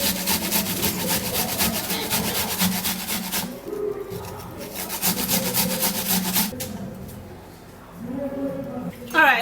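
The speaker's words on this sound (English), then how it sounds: "now when you're grating your onion, you also have to be careful" Onion rubbed against a grater in fast, steady rasping strokes, close and clear, pausing briefly twice before resuming, with faint background sounds.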